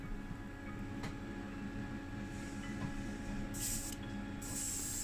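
Against a low steady hum, an airbrush sprays a thin green candy coat onto a model 1975 De Tomaso Pantera car body in two short hissing bursts, the second running to the end.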